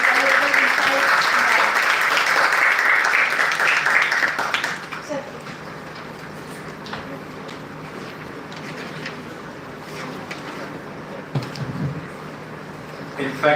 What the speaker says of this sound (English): Let's give a big round of applause for Sir's valuable insights.